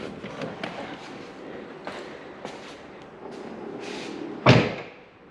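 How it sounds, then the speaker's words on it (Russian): After a few soft knocks and handling sounds, a Tesla Model S or Model X car door shuts with one loud, close slam that quickly fades. "дернуть за ручку, и дверь закрывается"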